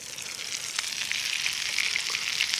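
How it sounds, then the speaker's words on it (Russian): Schnitzels fry in a pan over a Finnish candle fire, a log stood upright and burning in the taiga. The sizzling runs steady and close, with small pops and crackles. "жарит шницели"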